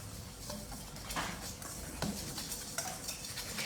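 Dry ingredients for a pistachio cake being mixed in a bowl, a steady soft scraping and stirring with a few sharper utensil clicks against the bowl, close by and moderately quiet, with no talk.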